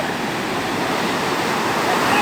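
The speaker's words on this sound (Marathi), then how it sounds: "समुद्राला उधाण आहे" Rough, swollen sea surf pounds the Konkan shore during traditional rapan net fishing, a loud, steady broadband wash of breaking waves.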